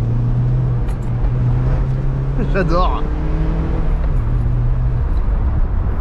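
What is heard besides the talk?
Mazda MX5 125-horsepower engine while driving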